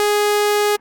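A single synth note from Serum, pitch-modulated and rich in bright harmonics, holds steady for under a second and then cuts off abruptly, heard alone and clearly.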